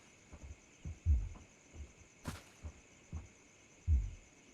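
Heartbeat sound effect from a dark forest horror video game, a low thumping pulse repeating in slow double beats over a faint steady hum, with a brief bright burst midway.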